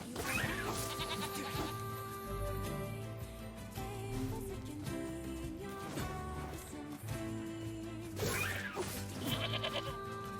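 Ram sheep in the action game Nier Replicant bleat over loud orchestral game music, several short wavering calls that come and go among the layered score and battle sounds.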